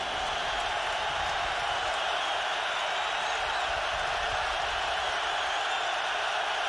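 Dense, roaring stadium crowd at a night NFL game, Colts at Patriots in 2004, on third down, a constant loud wash of cheering and noise with no break.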